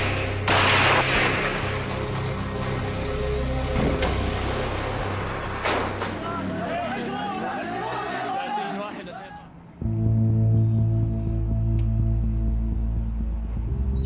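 Tanks and weapons of the Syrian military fire into homes: rapid bursts of gunfire and heavy shots, loud and dense, partly under a narrating voice, then giving way to a sustained tonal drone.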